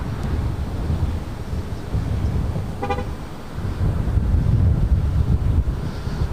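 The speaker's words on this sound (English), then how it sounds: "Wind picking up here." Wind buffeting the microphone at an airport beside a runway, a loud continuous low rumble throughout, with a short horn-like toot near the middle.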